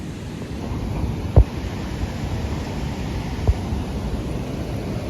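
Water rushing through the opened shutters of a dam at Aruvikkara near Thiruvananthapuram, a steady broad roar heard from a distance, with two brief thumps breaking the even wash and no voices.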